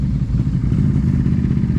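A highly modified motorcycle engine idling loud and close, a rough low rumble with a rapid uneven clatter, heard at a fall fair bog event.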